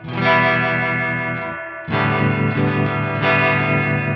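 A sustained electric guitar tone through a Crazy Tube Circuits White Whale V2 pedal at full intensity, heavily processed with distortion and chorus-like effects, rings out loudly, pauses briefly, then swells again.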